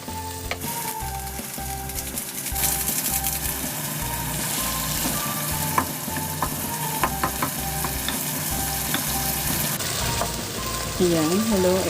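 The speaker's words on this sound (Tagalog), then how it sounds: "Tapos, ilagay natin yung corned beef." Corned beef sizzling steadily in a hot pan while being stirred, a dense frying hiss with scattered spatula scrapes and knocks, close and constant, with a low rhythmic hum underneath and a voice speaking briefly near the end.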